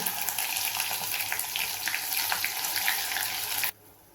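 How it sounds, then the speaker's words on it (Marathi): Mustard seeds, cumin and curry leaves sizzle in hot oil on a home stove, a dense, loud, continuous crackling hiss close by that cuts off abruptly near the end. "राई बघा चांगली तडतडली. आता जिरं टाकते, कढीपत्ता टाकते."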